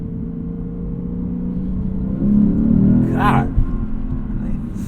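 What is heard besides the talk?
V8 car engine revving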